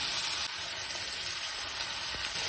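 Chopped tomatoes, two of them salted, sizzle and fry steadily in a pan for a ridge gourd curry, a dense continuous hiss close by with no talk over it.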